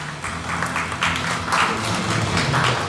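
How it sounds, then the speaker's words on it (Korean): A fan club audience at a fan cafe launch event claps together in brief, moderately loud applause indoors. "박수 한번 주시고요"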